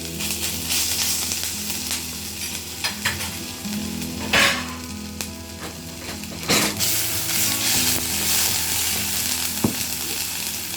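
Ginger garlic paste fries in very hot oil for a potato roast, giving a loud, steady sizzle with scraping stirring strokes and a few sharp utensil clatters, with no voices.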